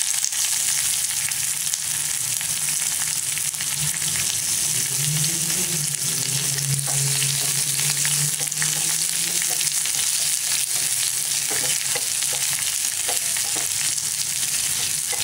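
Chopped onions fry in a pan for a spinach and dal kuzhambu, giving a loud, continuous close sizzle that stays even throughout, with faint scattered clicks and no talk.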